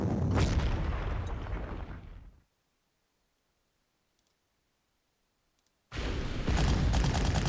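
Artillery fire in Panzer Corps, a loud burst of gunfire and booming at the start, then near silence with faint ticks, and another loud volley returning at the end.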